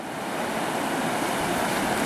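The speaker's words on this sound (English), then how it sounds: "Our normal slow flowing little river has got a bit of a hectic pace up this morning" Steady, dense rushing water fills the whole clip, a loud continuous roar without breaks, as the Bombala River in flood after heavy rain pours past close by.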